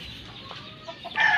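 A fighting rooster in a backyard coop clucks faintly, then a louder squawk rises at the end, close by, with no talk.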